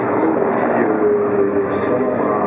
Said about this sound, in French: C'est un hélicoptère extrêmement manœuvrant, c'est un biplace de combat